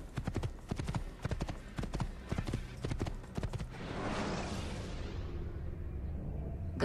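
Horse hooves clip-clop in a steady, rhythmic gallop while riding in the Assassin's Creed video game, loud and close, then giving way to a broad whooshing rumble toward the end.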